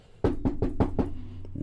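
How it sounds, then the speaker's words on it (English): Five firm, evenly spaced knocks sound on a house door, close and distinct, followed by a faint sixth tap and a low hum. "knocking on the door."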